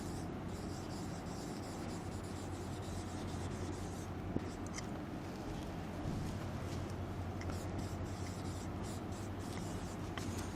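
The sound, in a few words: writing notes during a lecture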